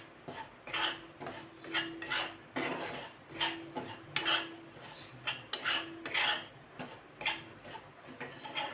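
Wheat flour dry-roasting in a pan, stirred with repeated scraping and rasping strokes in a steady rhythm, close and moderately loud with no voices.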